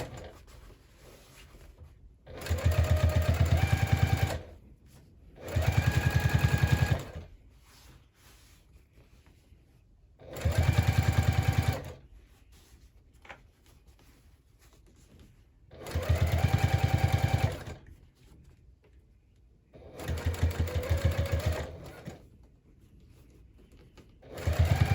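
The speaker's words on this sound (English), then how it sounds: "So we're gonna top stitch on that accent piece again." A sewing machine topstitches an accent piece on a handbag, running in six or so separate bursts of a few seconds each, loud and close, with quiet gaps of fabric handling between them.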